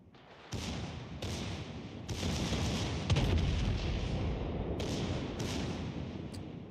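Heavy battleship guns boom across a naval battle in World of Warships Legends, a sudden broadband blast opening a sustained rumbling barrage with several further sharp reports near the end, loud and continuous.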